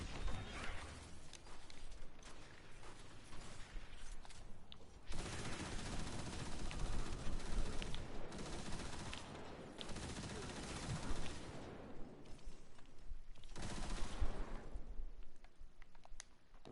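A heavy weapon in Destiny 2 fires in long rapid bursts, a loud rattling stream of shots broken by short pauses, with a voice speaking briefly between volleys.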